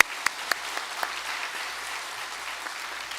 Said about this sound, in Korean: 우리 부활하신 주님께 영광의 박수 올려드리겠습니다.